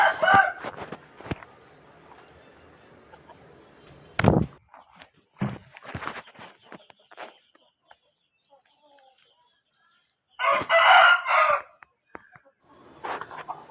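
A Bhimavaram fighting rooster, about 1.5 years old and around 4 kg, gives loud crows in separate bursts, the clearest near the end, with footsteps and gaps of quiet between them and some talk in the background.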